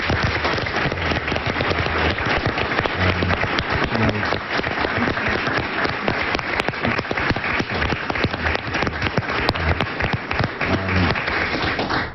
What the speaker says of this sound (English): Just another round of applause for your